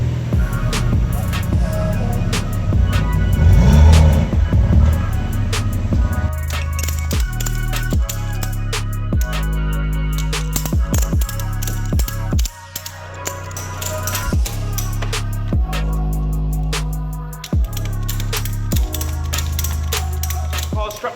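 BMW M2 Competition with S55 engine on a stage 2 tune, strapped to a dyno, roaring loudly through repeated full-throttle pulls, with sharp stepped gear changes, brief lifts and a pause midway.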